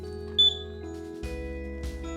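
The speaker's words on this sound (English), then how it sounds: "Working smoke alarms dramatically reduce your risk of being caught in a fire" A smoke alarm sounds one short, piercing test beep while it is checked from a stepladder indoors, followed by faint handling knocks and low room hum.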